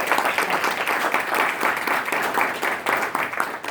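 A round of audience applause for a presenter at a live mobile-app pitch event, dense steady clapping from a crowd filling the room for several seconds without talk.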